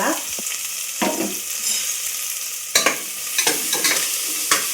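Onion frying in a pan with a steady sizzle, broken by several sharp scraping stirs that grow more frequent toward the end, close and fairly loud with no talking.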